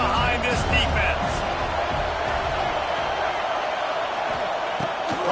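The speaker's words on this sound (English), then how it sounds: "Big third down as the crowd gets behind this defense" A football stadium crowd roars steadily in support of the defense before a third down, a loud, dense wash of cheering that continues throughout with no pauses, while a commentator talks over it.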